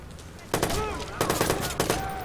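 Video game gunfire in Watch Dogs: three sharp shots fire at roughly even intervals, each with a quick echoing tail, over a constant background hum.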